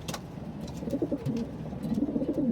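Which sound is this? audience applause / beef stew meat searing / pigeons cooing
pigeons cooing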